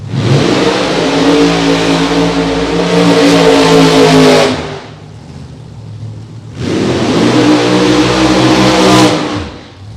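Alcohol-fueled Funny Car drag racing engines, including a 1969 Camaro and a Mustang, roar and rev loudly at the strip in two long, sustained bursts separated by a brief quieter lull.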